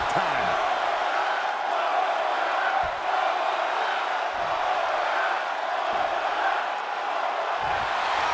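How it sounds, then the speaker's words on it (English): A large crowd roars continuously in the WWE 2K22 wrestling video game during Goldberg vs. Hawk, a loud, sustained wall of cheering and shouting with a few low thumps underneath. "The sound of this crowd is deafening"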